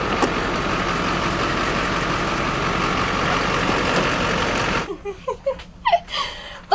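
A pickup truck engine idles at a campsite with a steady, loud rumble for several seconds, then cuts out and leaves quieter ambient sounds.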